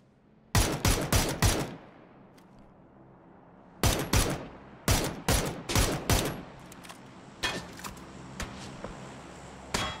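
Bursts of rapid automatic gunfire in the battle royale game PUBG, several loud close volleys of quick shots separated by short pauses, with fainter echoing shots trailing off toward the end.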